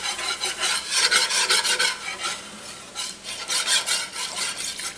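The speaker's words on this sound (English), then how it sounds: "now we're going to slowly add in our flour. I add it in about half a cup at a time, and then get it all stirred in and mixed." A spoon scrapes and rasps steadily as flour is stirred into hot oil for a chicken and sausage gumbo roux, with close, rhythmic strokes and no talking.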